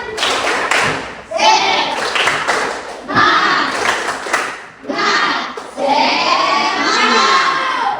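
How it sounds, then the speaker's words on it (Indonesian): A group of children claps and thumps in a quick rhythmic pattern, chanting and calling out together in bursts, loud and close. "Tepuk semangat."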